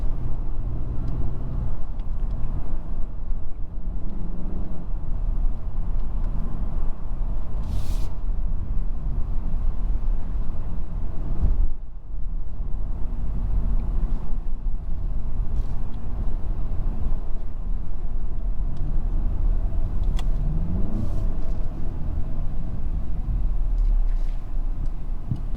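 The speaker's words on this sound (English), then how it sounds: "The turbo noise, the induction noise is just crazy." Inside a 2022 Mazda 3 Turbo hatchback under acceleration, a continuous engine rumble carries turbo and induction noise, with rising tonal sweeps as revs climb and a brief dip midway, loud and close with no voices.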